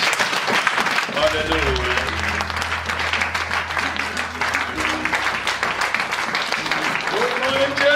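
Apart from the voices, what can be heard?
church congregation clapping hands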